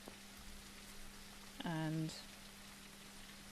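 Rain falls steadily outdoors as an even, hissing wash that lasts throughout, with a single word spoken briefly partway through.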